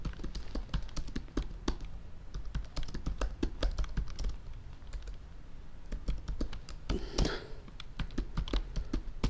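Fingers type on a computer keyboard in dense, irregular bursts of close clicks and taps, with a short pause partway through before the rapid keystrokes resume.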